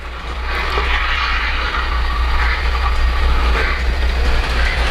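A Polar Express model railroad train runs along its track with a steady low motor hum and light rolling clatter, moderately loud and continuous, with no talking.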